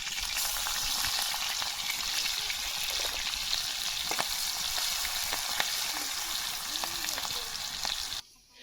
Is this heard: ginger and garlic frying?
yes